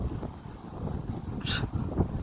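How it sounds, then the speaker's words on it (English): Steady wind rushing and buffeting outdoors, a continuous low roar with a brief brighter gust midway. "wind is still windy. There you go. Still windy."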